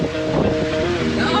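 A rental motorboat's engine gives a steady droning hum out on the water, partly buried under loud wind buffeting the microphone.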